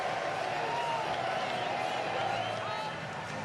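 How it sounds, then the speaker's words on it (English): A large rugby crowd at a New Zealand versus Australia match in Auckland roars steadily as the second half gets underway, a continuous dense wash of cheering that carries under a commentator's voice. "Crowd finding their voice as we get underway for the second half."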